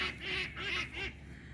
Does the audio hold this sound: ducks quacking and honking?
yes